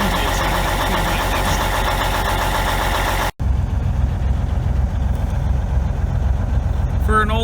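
An old, worn semi truck engine with around two million miles idles loudly with a steady mechanical clatter, cut by a brief dropout before continuing with a rougher, lower rumble.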